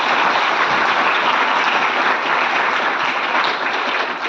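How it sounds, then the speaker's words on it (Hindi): A large classroom audience claps loudly and steadily in sustained applause to welcome a guest speaker, dense and even throughout with no voices over it. "आप लोग भी एक जोरदार ताली के साथ सर का स्वागत करेंगे"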